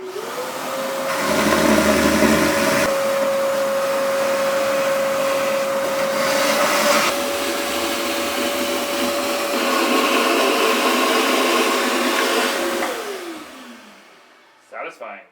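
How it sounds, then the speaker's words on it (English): A vacuum set up as a wet vac, internal filters removed, sucks water out of a toilet, roaring steadily for about thirteen seconds, its motor pitch holding high with gurgling suction noise, then winds down, followed by a brief clatter. "We'll suck the remaining water out with our vacuum, which we set up as a wet vac."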